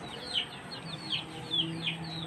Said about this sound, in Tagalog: Oh, maraming manok siya.